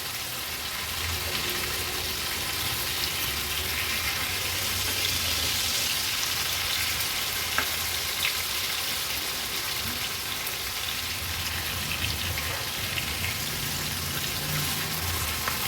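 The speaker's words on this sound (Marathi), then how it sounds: "पुन्हा आपण 1-2 मिनिटासाठी लो टू मीडियम फ्लेमवर मागची बाजू पण ह्या रावस मच्छीच्या तुकड्या व्यवस्थित फ्राय करून घेणार" Pieces of Rawas fish, uncoated by rice flour or rava, fry in a pan over a low to medium flame in Agri-Koli style, giving a loud, steady, unbroken sizzle with no talking.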